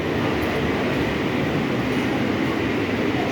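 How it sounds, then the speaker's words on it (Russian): A Maglev train rushes along in a steady, dense roar with broadband whooshing noise that holds constant and loud throughout, heard from on board with no distinct rail clatter. "Нашли Маглев. Это самый скоростной поезд в мире."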